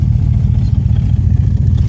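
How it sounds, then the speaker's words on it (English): An LS-swapped 1967 Bel Air with an aftermarket cam idles with a lumpy, uneven exhaust burble, low and steady for a couple of seconds, close by. "As far as the cam goes, you can kind of hear it in the exhaust"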